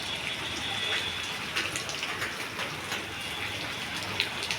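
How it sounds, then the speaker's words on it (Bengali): Steady rain falls continuously, a soft hissing patter with scattered drops, no voices. "দেখতেছি বৃষ্টি পড়ছে, দাঁড়াইলাম, বৃষ্টি পড়তেছে।"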